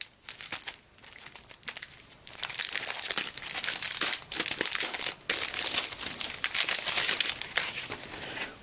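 Plastic film wrapping crinkled and crumpled on board game components during an unboxing, a close, steady rustling and crackling that swells and fades in irregular handfuls with short pauses.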